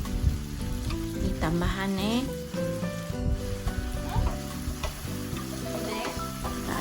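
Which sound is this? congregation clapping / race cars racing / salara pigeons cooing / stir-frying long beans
stir-frying long beans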